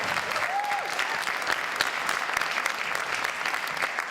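Audience applause for the finalists of a college elevator pitch competition fills the room in a dense, steady wash of clapping that holds at an even level from start to finish, with no voices rising above it.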